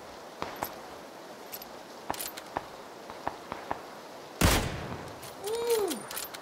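Sniper gunfire in a shooting video game, a series of sharp, sparse single cracks at a moderate distance followed by one loud close blast, then a sweeping game effect.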